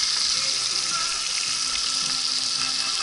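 Food fries in a frying pan outdoors, giving a steady, dense sizzle that crackles evenly through the whole stretch with no talk over it.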